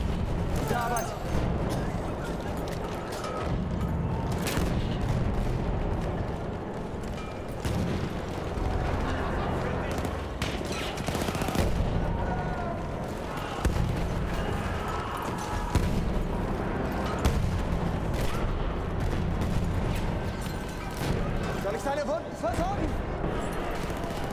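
Shotgun blasts and other weapon fire in the multiplayer shooter Battlefield 1, a constant loud clatter of shots, explosions and mechanical noise, with people talking over the din.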